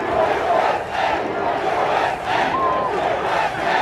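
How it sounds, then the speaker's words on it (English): A rally crowd roars and cheers continuously, a dense wash of many voices with swelling shouts that pulse in waves throughout. "What a crowd."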